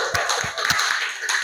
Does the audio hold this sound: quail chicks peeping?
no